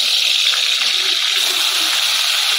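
Eggplant slices go into hot white cooking oil and fry with a loud, steady hiss and sizzle, close up and unbroken throughout.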